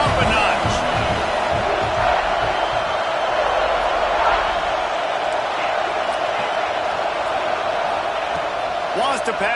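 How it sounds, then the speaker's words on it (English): Football stadium crowd roar, a dense steady wall of noise at loud level heard under a commentator's voice throughout. "Here comes second down, and this crowd is turning it up a notch."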